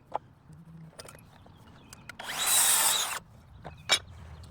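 Power tool briefly cutting wood boards for a raised garden bed planter, a single loud burst of about a second among quiet workshop clicks and knocks, with no voice.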